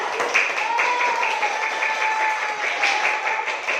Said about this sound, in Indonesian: Tepuk tangan untuk Rizky dan saya.